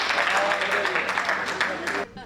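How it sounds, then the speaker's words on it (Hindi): Audience applause at a Hindi comic poetry gathering (kavi sammelan), a dense steady wash of clapping filling the hall for about two seconds before cutting off abruptly. "एक बार आपकी तालियां बजे"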